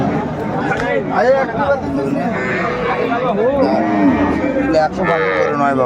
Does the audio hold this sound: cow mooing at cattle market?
yes